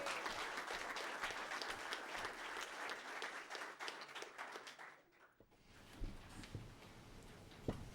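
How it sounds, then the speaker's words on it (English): Audience applause at a school student and staff recognition ceremony for the girls soccer team, steady dense clapping for about five seconds that fades out, followed by scattered claps and murmurs. "Let's have a big round of applause for our girls soccer."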